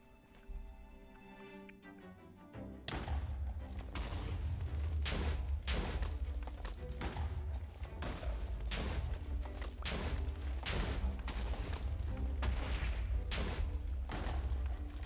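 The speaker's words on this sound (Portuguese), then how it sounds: "Vamos lá então fazer aqui esta explosão." TNT blocks detonate in Minecraft, a rapid chain of loud booming explosions thudding one after another for over ten seconds after a quieter opening, with no talk over them.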